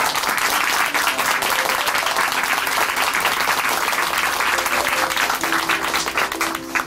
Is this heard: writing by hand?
no